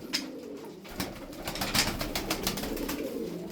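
Tokat tumbler pigeons coo in soft, low, repeated calls close by, with light rustles and faint clicks scattered among them and no talk.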